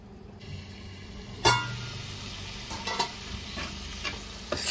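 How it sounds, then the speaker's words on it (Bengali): Spice paste of masala and chili powder sautés in a covered pan for a Bengali tangra fish curry, giving a soft, steady sizzle broken by a few sharp scrapes and stirring knocks, with no talking. "এবার এটা ঢাকা দিয়ে মিনিট 2-3 কষিয়ে নেব।"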